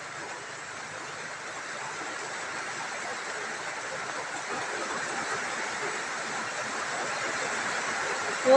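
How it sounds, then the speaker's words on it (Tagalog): Steady rain falls continuously outdoors, a dense, even hiss of drops that holds at a constant level throughout with no talking. "Umuulan, pumapatak yung ulan."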